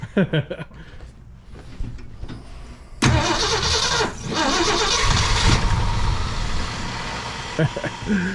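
A 1966 Ford Fairlane's 390 FE V8 stays quiet at first, then cranks and fires around the third second into a loud, rough, throbbing idle with a few blips of revving.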